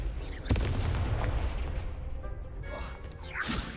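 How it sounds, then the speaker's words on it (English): Confringo blast spell cast in Hogwarts Legacy, a sharp boom near the start followed by rumbling impact and crackling magical whooshes, loud and close. "Confringo!"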